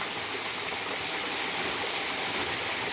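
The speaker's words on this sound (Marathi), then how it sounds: "हे आहेत आगाशीच्या लेण्या आणि त्याच्यावरून कोसळणारे हे धबधबे आहेत" A steady, loud roar of falling water fills the clip, dense and continuous, from waterfalls cascading over the Agashiv caves near Karad.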